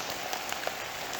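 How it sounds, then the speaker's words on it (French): Downpour during a bike ride near a beach, a constant dense hiss of heavy rain with scattered drop impacts, loud and unbroken, no voices. "alors là il pleut énormément"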